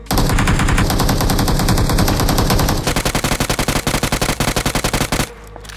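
Automatic gunfire in the mobile game BGMI (PUBG Mobile): a loud, dense sustained burst, then a rapid string of about twenty sharp, evenly spaced shots before it stops, with no talking.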